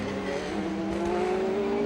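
An Audi Team Goh race car at Le Mans in 2003 roars past, a loud sustained engine note rising steadily in pitch as it accelerates.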